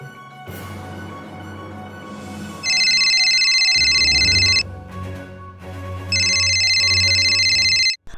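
Phone ringtone for an incoming call, a bright repeating electronic tone in two loud bursts over a low musical backing, close and clear.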